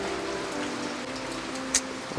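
Steady rain falls throughout, an even, close patter of drops on a surface with one brief sharper splash or knock near the end.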